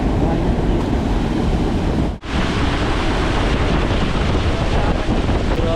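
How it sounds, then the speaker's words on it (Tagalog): Strong storm wind gusts buffet the microphone out on the water during a fishing trip, a loud continuous roar with a brief dropout midway. "Grabe, binabagyo na po kami dito."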